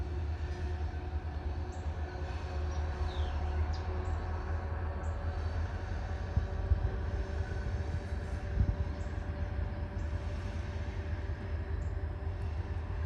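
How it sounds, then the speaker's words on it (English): Freight trains meeting on the Cincinnati Eastern Railroad, a steady low rumble of rolling cars and wheels on rail carrying on throughout, with a few sharper clanks partway through and no talking. "There you go, two trains passing on the Cincinnati Eastern Railroad"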